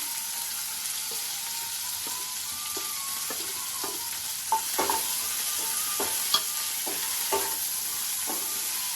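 Food frying in a pan with a little turmeric powder before onions go in, a constant fine sizzle with occasional spatula scrapes and light taps, moderately loud and close, no talking.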